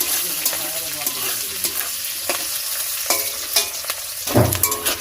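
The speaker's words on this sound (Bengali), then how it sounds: "এই যে পেঁয়াজটা এবার ভালো করে একটু ভেজে নেব।" Chopped onions frying in oil for hilsa pulao, a close steady sizzle broken by repeated spatula stirs and scrapes, growing louder near the end, with no talking.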